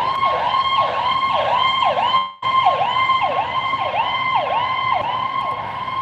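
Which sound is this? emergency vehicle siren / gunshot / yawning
emergency vehicle siren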